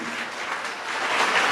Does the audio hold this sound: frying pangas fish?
no